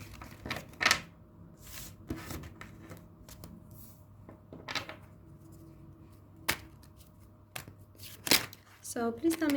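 A deck of tarot cards is shuffled for a reading, with repeated riffling bursts and soft papery slaps spread irregularly through the passage while a voice talks faintly at times.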